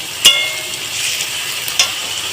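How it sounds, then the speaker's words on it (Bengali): Onion and ginger-garlic paste fry in mustard oil with a steady, close sizzling hiss throughout, broken by two brief sharp clicks of a utensil against the pan. "দিয়ে পেঁয়াজটাকে ভালোভাবে ভেজে নিয়েছি দেখুন বন্ধুরা লাল লাল করে আমি পেঁয়াজটা ভেজে নিয়েছি এবার আদা রসুন লেবুর মানে পেস্ট আমি দু চামচ দিয়ে দিলাম"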